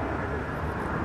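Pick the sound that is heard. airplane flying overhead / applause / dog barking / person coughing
airplane flying overhead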